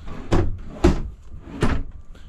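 Soft-close dresser drawers in a Van Leigh Beacon 34RLB fifth-wheel RV shut one after another, giving three muffled thuds in an uneven rhythm, close by and with no talking.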